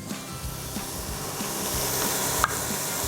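Spices go into a sizzling pan of moussaka sauce on the stove, giving a steady frying hiss with soft scraping and stirring strokes repeating close by, plus one small clink.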